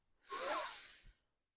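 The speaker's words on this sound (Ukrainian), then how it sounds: "зробимо вдих в грудну клітину" A single deep breath drawn in through the nose and chest, a soft airy rush lasting about a second, close and alone, tapering off at the end.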